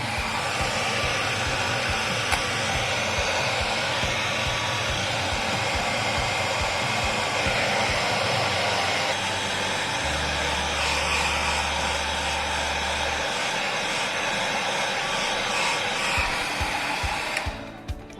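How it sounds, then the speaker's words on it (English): Hairdryer blowing on freshly painted nails, a loud continuous airy roar lasting the whole stretch with a steady hum beneath, cutting off abruptly at the end. "Wipe your hands and dry it off quickly with the hairdryer."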